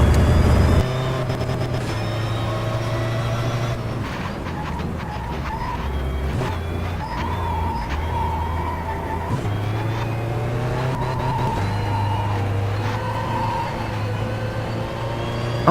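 Race car engines from the Race 07 racing video game, a continuous loud whine with shifting revs and gear changes running throughout, with no tire skid standing out clearly.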